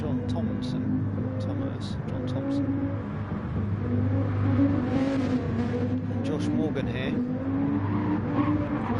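GT3 race cars lapping Suzuka in GT Sport, engines droning and revving steadily with brief tire squeal, under continuous talk.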